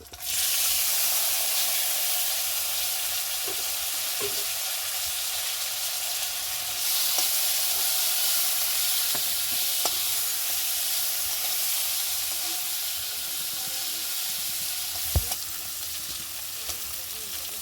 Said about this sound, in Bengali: এর একটু ভেজে নেবো লাল লাল করে।